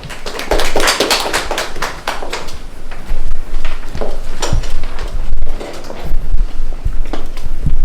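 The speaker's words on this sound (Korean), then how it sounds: "박수 부탁드립니다" Audience applause at an Incheon forum on ageing society, a dense burst of many hands clapping that swells and fades in waves, loud and close, with no talk over it.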